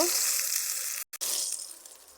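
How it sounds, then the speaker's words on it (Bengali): Boiled potatoes and dal dropped into hot oil for tomato chana dal, giving a loud, steady frying sizzle close by with a brief break partway before the hiss continues and slowly fades. "আলু ডাল দিয়ে দিলাম সিদ্ধ তেলের মধ্যে"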